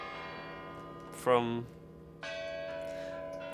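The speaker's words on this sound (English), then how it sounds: "Definitely some really loud bells." Loud bells of the Kremlin ring out in a short burst of clanging strikes, then leave a sustained, layered tonal hum that swells again toward the end; a brief spoken word falls amid the ringing.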